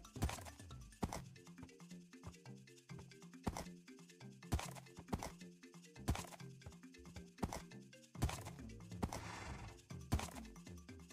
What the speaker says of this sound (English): There's definitely a horse over here.